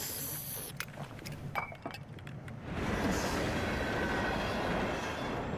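Steady rumble of a train ride, with wheels rattling on the rails and cabin noise swelling and holding loud and constant through the second half.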